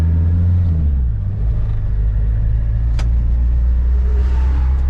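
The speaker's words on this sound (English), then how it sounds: "This is our first legal test drive down the road." A 1981 VW Dasher diesel car drives down a road with a loud, steady engine rumble from inside the cabin. A brief sharp click comes partway through.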